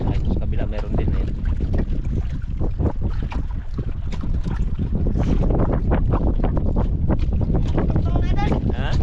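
Strong amihan monsoon wind at sea from a small fishing boat, gusting and buffeting the microphone continuously, with voices talking intermittently over it.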